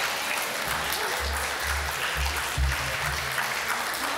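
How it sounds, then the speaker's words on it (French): An audience at an exhibition opening at Sainte-Justine applauds children on stage: a steady wash of crowd clapping runs for the full few seconds, with a low hum underneath. "Applaudissez-les parce que c'est eux les vedettes."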